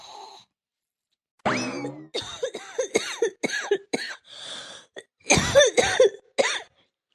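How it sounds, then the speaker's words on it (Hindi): An older woman at home on a cold winter day coughs in a string of harsh, strained bursts mixed with groaning, close and fairly loud, with short pauses between fits. "बड़ी खांसी आ रही"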